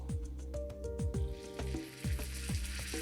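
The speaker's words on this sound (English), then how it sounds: "You want that sizzle." Steak searing in a hot pan, with a steady loud frying sizzle and crackle throughout, close up, and no voices.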